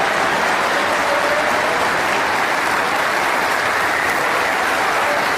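A snooker crowd at the English Open semifinal applauds the 20-year-old winner Wu Yize after his 6-0 victory, a dense and steady clapping that holds evenly throughout.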